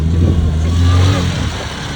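A Lada Niva off-road car's engine catches and runs at an off-road season opening, a loud, close, low rumbling idle with a steady throbbing hum.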